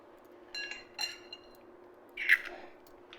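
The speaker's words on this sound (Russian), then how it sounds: "Сейчас я разделю белки и желтки." Eggs being separated into whites and yolks over glass bowls, with faint, sparse clinks and taps of shell and glass in a quiet kitchen, a sharper clink near the end.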